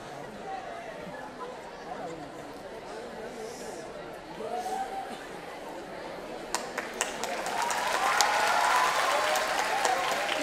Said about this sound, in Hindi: बच्चों का कंपटीशन था, तो जोरदार तालियां, जोरों से सबको प्रोत्साहन मिलना चाहिए